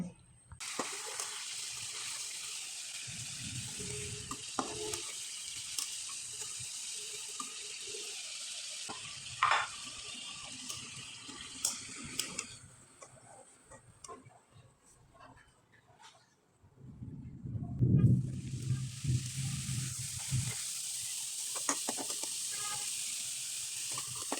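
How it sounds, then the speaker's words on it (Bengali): Rice flour pitha frying in oil over a low flame, a steady soft sizzle broken by stirring clatter, fading out midway and then returning louder. "এখন তেলে ভেজে দেখিয়ে দিচ্ছি"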